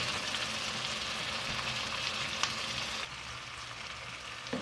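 Onions and tomatoes cooking in a pan for a fish curry, giving a soft, even sizzle and hiss that drops noticeably quieter partway through, with a faint click and no voices.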